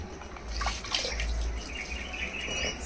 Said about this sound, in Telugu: శుభ్రంగా కడగాలండి మనం రుబ్బుకునే ముందు ఎంత శుభ్రంగా కడుక్కుంటామో రుబ్బేసుకున్న తర్వాత కూడా అంతే శుభ్రంగా కడగాలి